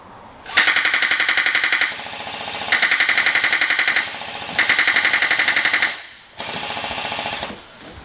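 Long bursts of rapid automatic gunfire, loud and close, in several sustained strings separated by brief pauses, with no voices.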